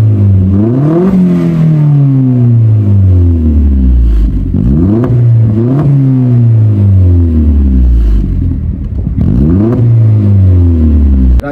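Stage 2 Vauxhall Astra VXR with a full Scorpion exhaust revs loudly and repeatedly, four or five sharp rises and falls, with burbles and crackles on the overrun, close up and with no talking.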